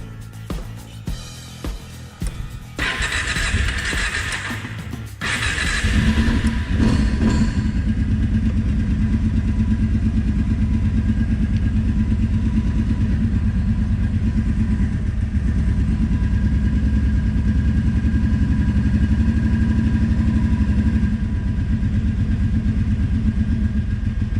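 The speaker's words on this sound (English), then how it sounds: "let's crank the Articat. See how this clutch is going to work." An Arctic Cat 650 engine cranks with uneven chugging for a few seconds, then catches and settles into a loud, steady rumbling idle that runs on close by for the rest, with no talk.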